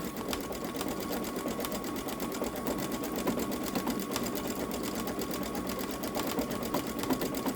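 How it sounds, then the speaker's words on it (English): A Babylock Solaris Vision sewing machine couching yarn at about 500 stitches per minute, a steady continuous mechanical whir with rapid even needle ticking throughout, close and alone. "As far as the machine speed, I'm going 500 stitches per minute."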